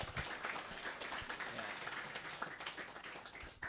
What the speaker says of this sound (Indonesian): Oke, aplaus dulu dong.